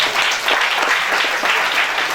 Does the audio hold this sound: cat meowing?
no